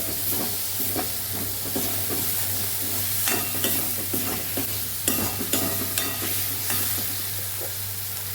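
Grated tomato being stirred into a sizzling masala in a pan for Kathiyawadi papdi and brinjal curry, with a steady close frying hiss, repeated scraping stirs and a low hum underneath.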